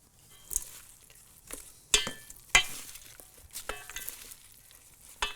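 A dressed salad is tossed in a bowl with soft wet rustling and several sharp clinks of utensils against the bowl, close and fairly quiet, with no talking.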